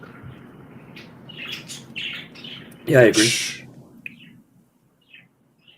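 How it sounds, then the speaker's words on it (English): Pet parakeets chirp indoors in short, high, scattered bursts, some overlapping, alongside a person's brief speech and a louder burst of noise partway through. "Yes, those are my parakeets."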